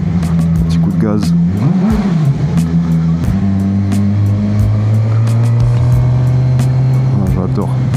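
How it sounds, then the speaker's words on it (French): A vehicle engine on a drive along a cliffside in the Cévennes gives a close, loud throttle blip, with pitch rising and falling as it revs, then a steady drone, while someone talks excitedly over it. "Petit coup de gaz."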